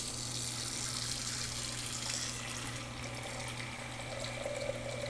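Water runs from a kitchen tap into a pot to be boiled for fava beans, a steady hissing splash that fills the whole stretch at a soft, even level, without any voices.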